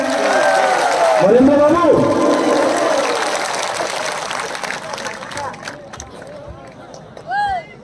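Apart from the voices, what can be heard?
crowd applauding at political rally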